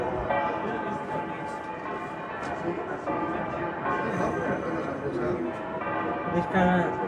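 Church bells of the Santos Juanes church in Valencia ring steadily in the distance in a full peal, their resonant tones layered and sustained, with people talking nearby over them.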